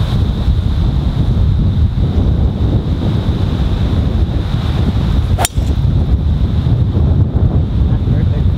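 Wind buffets the microphone on the York Downs golf course as a steady, loud rumbling roar, broken once midway by a single sharp click.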